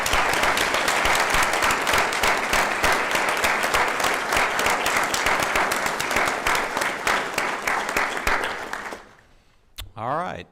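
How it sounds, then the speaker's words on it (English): A room full of people at a school district board of trustees meeting claps in sustained, even applause for about nine seconds, then it fades out and a single voice starts speaking. "Let's give them a round of applause."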